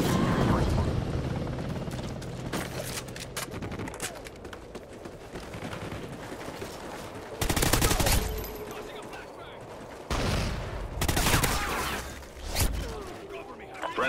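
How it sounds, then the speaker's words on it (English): A Super Hind attack helicopter fires in the video game Call of Duty Ghosts: loud bursts of rapid gunfire and explosive blasts over a rotor drone, with occasional game voice lines. "Friendly Hind incoming."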